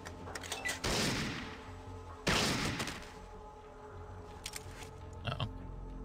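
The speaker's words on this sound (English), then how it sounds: "That's a shotgun." Two loud, sharp shotgun blasts in the Fallout video game, about a second and a half apart, each booming briefly and then fading into quieter game ambience.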